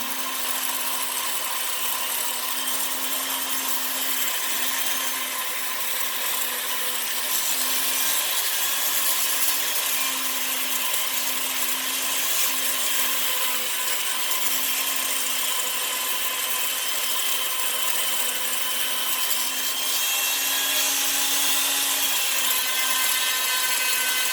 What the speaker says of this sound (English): I take a polishing machine.